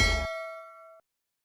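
A single bell notification ding rings out bright and clean, a sharp struck onset followed by a pure ringing tone that fades and cuts off after about a second, alone.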